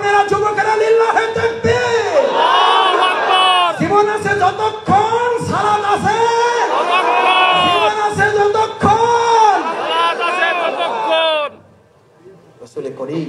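A large crowd roars the Allahu Akbar reply to a takbir call at a Bengali religious gathering. Loud, chanted shouts repeat in waves for about eleven seconds, then drop away to quiet.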